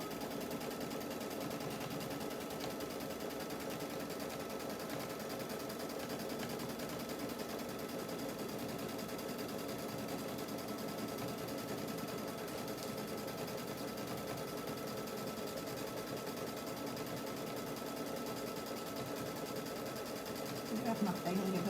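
A domestic sewing machine hums and chatters steadily at close range, stitching to tack down quilt wadding on a folded-fabric heirloom quilt, running continuously with a brief louder burst at the end.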